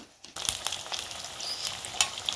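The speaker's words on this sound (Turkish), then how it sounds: "Nar gibi kızaran karnabaharlarımı görüyorsunuz." Cauliflower pieces fry in a pan, producing a steady crackling sizzle with sharp pops and spatters throughout, close and fairly loud.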